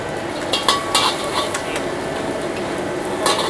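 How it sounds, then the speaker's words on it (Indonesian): Hainanese fried rice with garlic and egg is stir-fried in a pan, with steady sizzling and scattered metallic clinks and scrapes of a utensil against the pan, close and fairly loud. "Kita bikin nasi goreng Hainam."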